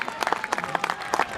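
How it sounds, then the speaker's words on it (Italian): Applause and crowd clapping greet the finishers of a men's long cross-country race at an Italian championship, a brief burst of scattered claps at moderate distance. "applausi per loro"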